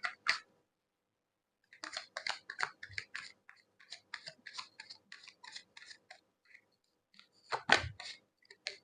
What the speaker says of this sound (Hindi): एक और कार्ड निकालते हैं।